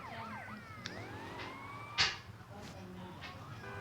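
A police-style siren in Grand Theft Auto wails with rising and falling sweeps over a steady engine hum, with a brief sharp burst midway.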